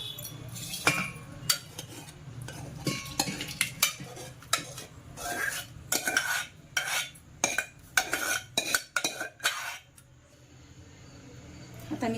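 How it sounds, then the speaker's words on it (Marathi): Cooked dal being scooped out of a pressure cooker into a pot, heard as a quiet, close series of metal ladle scrapes and clinks against the vessels in irregular bursts, with a low background hum. "मी आता एका पातेल्यात ती काढून घेते।"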